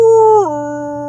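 Voice imitating a wolf howl: one loud, close, sustained tonal howl that holds steady, then slides down in pitch and trails off.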